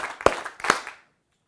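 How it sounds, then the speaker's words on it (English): An audience at a live speaking event claps in unison on cue, a few sharp, distinct claps spaced about half a second apart, then silence. "could you clap 3 times for me?"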